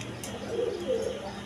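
Danish pigeons in tigal colouring, a pair, give soft nearby coos, two short rolling phrases rising out of a faint room background.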